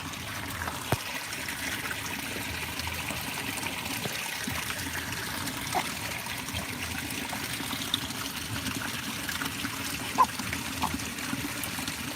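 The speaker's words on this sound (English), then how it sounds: "Let me get closer to the water so you can hear the sound of the water." Water trickles quietly and continuously outdoors during a walk, a soft steady flowing wash with a few faint clicks and knocks, no talking heard.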